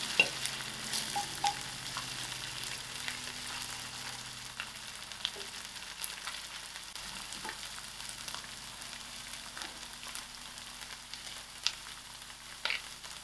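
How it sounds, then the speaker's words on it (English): Ginger garlic paste fries in a pan for a pilchard and potato curry, a soft continuous sizzle broken by occasional light scrapes and stirs, quiet and close with no talking. "To this, I'm going to add my ginger garlic."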